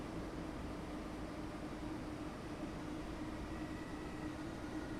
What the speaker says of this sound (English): that's my nice train gone already